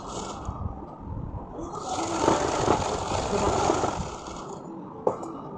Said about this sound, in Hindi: अब हम ऐसे लगा लेंगे सिलाई